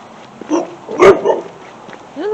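A dog gives a single sharp, close bark in the middle, followed by a fainter whine or yip near the end, against a quiet background.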